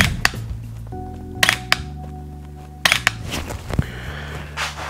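Several shots are fired at a target on a range with a Mantis Blackbeard X setup, heard as sharp, close pops spread unevenly over a few seconds amid clicks and handling noise.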